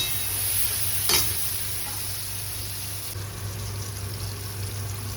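Chopped onions sizzle steadily in a pan while semolina is stirred in for upma, a soft even hiss with one brief clatter near the start and no voices.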